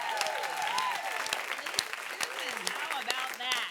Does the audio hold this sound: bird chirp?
no